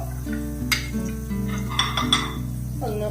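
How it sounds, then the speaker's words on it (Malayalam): Mustard seeds and fenugreek crackle and sizzle in hot oil in a pan, with steady frying hiss punctuated by sharp pops and a few clinks of a utensil against the pan. "ഓയിൽ ചൂടായിട്ടുണ്ട് ഇത് ഒരു കാൽ ടീസ്പൂൺ കടുക് ഇട്ട് കൊടുക്കുകയാണ്"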